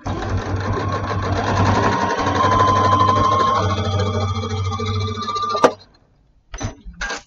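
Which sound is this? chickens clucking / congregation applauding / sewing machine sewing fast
sewing machine sewing fast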